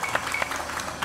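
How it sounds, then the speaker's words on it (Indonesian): Studio audience applause for a guest father on an Indonesian talk show: a dense, steady patter of many hands clapping close by, continuing evenly throughout. "Tepuk tangan buat Bapak."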